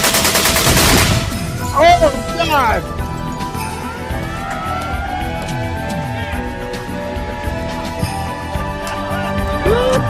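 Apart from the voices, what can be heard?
semi-automatic weapon gunfire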